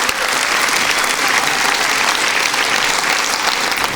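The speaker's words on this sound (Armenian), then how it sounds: "Բարձր ծափարենք ակումբի" An audience at a women's club evening show claps loudly and steadily, a dense wash of applause filling the whole stretch with no pauses or voices.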